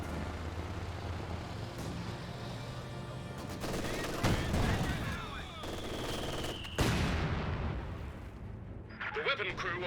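A Company of Heroes 2 battle with scattered gunfire and a heavier mortar or artillery blast, set in a continuous battle din, with a few sharp impacts standing out midway and a voice talking over it.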